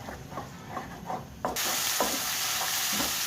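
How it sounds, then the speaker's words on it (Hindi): Turmeric and crushed chili fry in a pan, with soft scraping stirs at first, then a sudden louder hiss of sizzling oil carries on with a few more strokes of a spoon. "हल्दी और मिर्च, इसको मैंने थोड़ा सा भून लिया"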